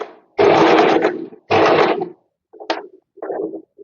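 A sewing machine stitches along a folded edge of old saree fabric in two longer running bursts, then two shorter ones, with brief pauses between them.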